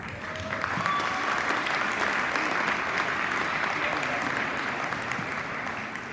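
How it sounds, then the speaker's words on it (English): A room full of guests applauds at an all-star soccer classic luncheon, a sustained, even wash of clapping that holds steady for several seconds and fades slightly at the end. "I also applaud you with an extra round of applause"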